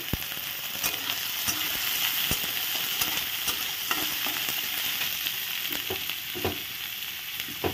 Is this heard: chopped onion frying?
yes